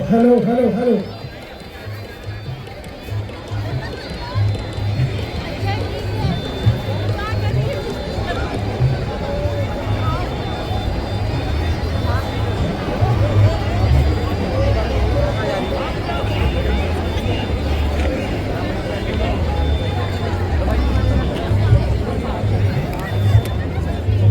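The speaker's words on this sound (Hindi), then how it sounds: "बहुत भीड़ बची हुई है उत्तराखंड के महाकौतिक में" Busy crowd at the Uttarakhand Mahakauthik fair in Noida, a constant babble of distant and nearby voices with low rumbling movement, a voice speaking close up briefly at the start before the steady hubbub continues.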